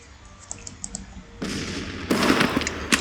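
Massed musket volleys in a Grand Tactician: The Civil War battle, a crackle of distant shots that swells into a dense, loud roar of gunfire, with a second heavier wave joining and faint mouse clicks early on.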